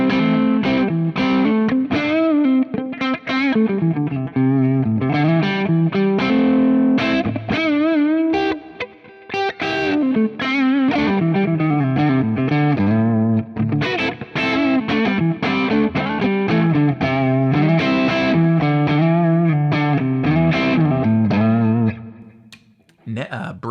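A distorted electric guitar played through its neck pickup alone, a loud, continuous run of thick, saturated notes and chords with a chorus-like shimmer, close and steady without talk.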